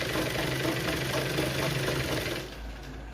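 A sewing machine runs steadily while stitching blouse fabric, giving a dense, continuous mechanical whir that eases and drops in level near the end.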